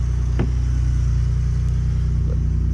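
A V6 truck engine idles with a steady, low, throbbing rumble, close and constant, with a couple of faint brief clicks over it.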